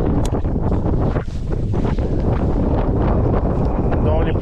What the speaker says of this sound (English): It's so windy, so.